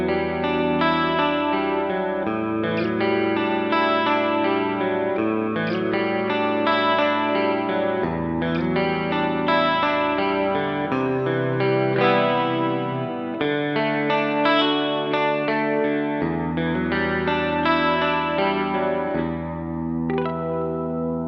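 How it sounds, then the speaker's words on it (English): Clean electric guitar run through stereo chorus with extra reverb and delay, played as a continuous flowing run of chords and notes with shimmering, echoing tails, steady and loud with no talking. "This has got some stereo chorus on, more reverb and more delay."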